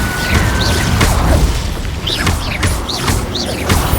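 Fire spell cast in Hogwarts Legacy, loud and dense, with repeated booming bursts and crackling blasts layered over a continuous roar of game effects.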